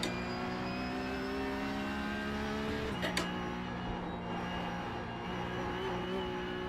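A race car engine in iRacing drones at a steady, sustained pitch. Around the three-second mark there is a brief shift-like drop, and the tone then holds fairly level at moderate volume.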